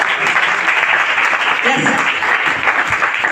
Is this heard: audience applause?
yes